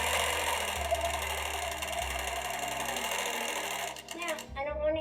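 Sewing machine stitching quilt fabric on an SR-2 quilting frame, a steady close mechanical whirr with rapid needle clatter running continuously, then briefly stopping and restarting near the end.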